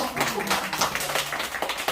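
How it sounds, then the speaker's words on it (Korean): Scattered applause from participants in a poetry-writing class, quick irregular claps at moderate volume mixed with a voice speaking over them. "박수 한번 더 보내드릴까요?"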